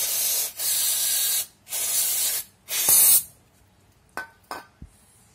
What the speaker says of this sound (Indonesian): Tinggal kita semprot-semprot aja.